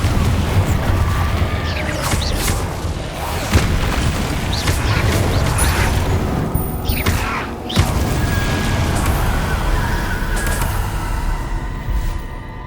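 Confringo explosion spell blasts from Hogwarts Legacy gameplay, a dense run of loud booming impacts and crackling bursts layered over continuous game noise, with sharper hits near the start, middle and end.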